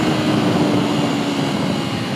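Steady, loud engine roar from an Aprilia RSV4 RF sport motorcycle with auto blipper, a continuous droning hum at speed with wind noise and no distinct shifts.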